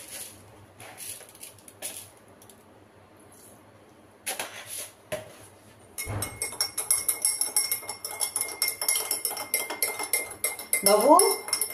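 Glass and spoon clink repeatedly while saline water is mixed at home for a child, light metallic taps building over steady background noise, quicker stirring clinks near the end.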